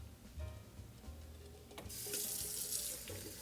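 Cold tap water runs steadily into a kitchen sink as boiled eggs are rinsed, a close, continuous splashing rush that grows louder and brighter partway through.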